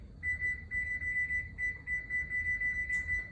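A kitchen timer rings nearby with a rapid, steady electronic beeping in pulsed bursts, loud and continuous for several seconds with no talk over it.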